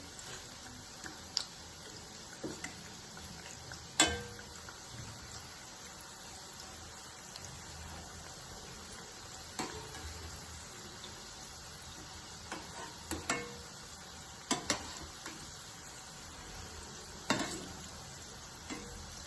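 Onion pakoras (khekda bhaji) deep-frying in hot oil, a constant close sizzle broken by scattered sharp clicks and scrapes as the fritters are stirred and flipped, with no voices.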